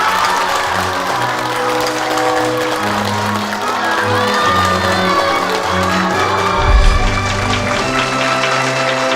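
A gathered crowd of residents applauds and cheers for their newly elected residents' committee director, loud, steady clapping with scattered shouts and music beneath it.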